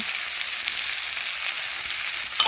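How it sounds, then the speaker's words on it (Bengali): Ground spices, onion and ginger-cumin-chili paste sizzle loudly in a hot pan, a continuous close hiss and crackle with a brief clatter at the very end. "আমি মশলাটা একটু ভেজে নেব"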